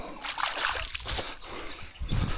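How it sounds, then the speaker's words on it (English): Hand sloshing and splashing in stream water while releasing a rainbow trout in the Victorian High Country, with close, irregular splashes and trickles. "I can wet my hand."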